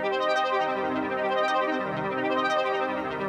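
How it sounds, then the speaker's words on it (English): Juno synth Dreaming of a Harp preset holding a sustained minor chord, a shimmering, wavering pad with rippling plucked harp-like texture, steady and fairly soft, with no voices. "This is the Dreaming of a Harp preset,"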